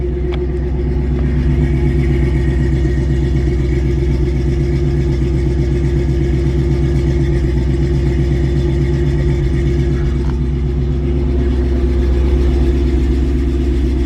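An older truck, its valves starting to go and burning a little oil, idles with a loud, steady low rumble and even throb that runs unbroken and close throughout.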